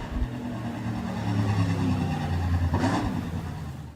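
USRA Hobby Stock race cars circling a dirt speedway at Rapid Speedway, a blended roar of engines rising and falling at a distance, with one brief louder pass standing out near the end.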